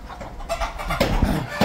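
Free-range hens cluck in short, uneven bursts close by, with a restless poultry-farm murmur underneath.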